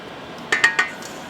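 Egg yolks being mixed into a toasted coconut pie filling: a utensil clinks against the bowl three times in quick succession, close and fairly crisp, with no talking.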